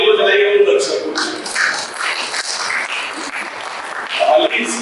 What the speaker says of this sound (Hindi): ताली बजाइए वो दर्शकों से।